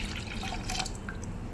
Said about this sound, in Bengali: বন্ধুরা, এই কাপের আমি 2 কাপ জল দিয়ে দিচ্ছি।